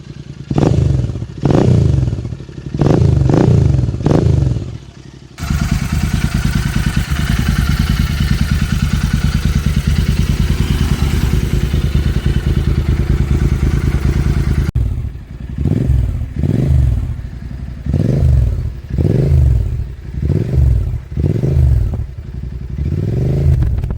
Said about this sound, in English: let's take a shot of the exhaust note